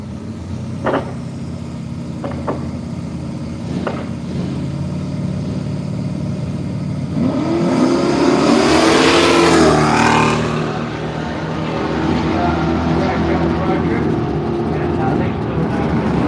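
A drag racing car at Willowbank Raceway in Australia launches and thunders past, rising to a loud, rough engine roar that fades away, with an announcer talking over the steady crowd and track noise.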